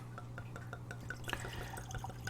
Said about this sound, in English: let's go ahead and pour some in the glass